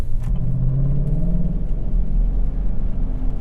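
Steady low engine rumble from a pickup truck fitted with an S&B Filters aftermarket air intake, cruising at light throttle, a deep continuous drone with slight swells, close and fairly loud.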